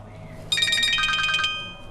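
A mobile phone ringtone plays a quick rising-and-falling electronic melody, bright and fairly loud, over a low room hum in a Pakistani drama scene.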